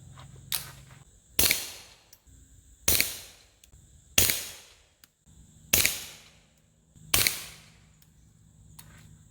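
A Ruger Mark IV 22/45 pistol fires Remington Golden 40 grain solid .22 rounds, with six sharp, loud, close shots spaced about one to one and a half seconds apart, each with a brief decaying tail.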